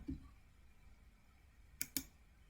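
Two sharp mouse clicks in quick succession while running code in RStudio during a statistics tutorial, faint against a quiet room with a soft bump at the start.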